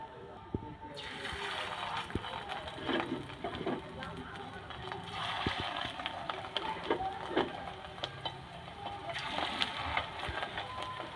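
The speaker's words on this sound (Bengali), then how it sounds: "এরকম একটা একটা করে বড়াগুলো আমি তেলের মধ্যে দিয়ে দিচ্ছি, ছোট ছোট করে।" Small fish roe fritters drop one by one into hot rice bran oil, raising a broad steady bubbling sizzle that swells in waves, with faint clicks and a brief murmur of voices.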